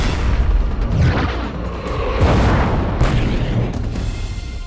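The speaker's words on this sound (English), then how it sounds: "Laying down cover fire for surface forces." Gunfire and explosions from an animated action show: a dense, loud barrage of booms and rapid shots rolling continuously with heavy low rumble and no speech.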